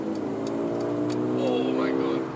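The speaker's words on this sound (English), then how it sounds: "Oh my god, the way this car pulls!" Mercedes-AMG A35 Sedan pulling hard under acceleration, a steady rising engine drone heard from inside, moderately loud, with someone talking over it.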